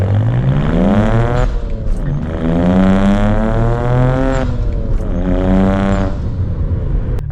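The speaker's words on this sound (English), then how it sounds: "Hopefully you guys could kind of get a sense of what the burbles sound like with this MHD Stage 2 tune." A BMW 335i with the N54 engine and an MHD Stage 2 tune accelerates hard through several gears, its loud, close exhaust rising in pitch through each pull with brief dips and pops between shifts, with no talking.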